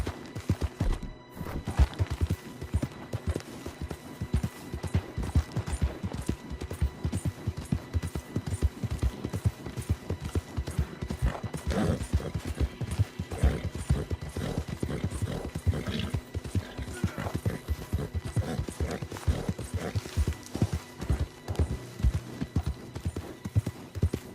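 Horse hooves galloping in the video game Red Dead Redemption 2, a rapid, steady clip-clop drumming close by for over twenty seconds, with an occasional whinny and snort mixed in.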